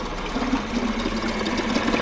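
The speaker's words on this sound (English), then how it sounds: "Whoop, whoop. We have horsepower." Cheap secondhand outboard motor on a small boat running in forward gear, a steady, fairly quiet buzzing drone with a slight rhythmic flutter, heard nearby and without talk.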